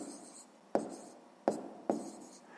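Pen strokes on paper while writing numbers by hand during a sixth-grade maths exercise: three sharp scratchy taps with short trailing scrapes over a quiet room hiss, close and distinct, no voices.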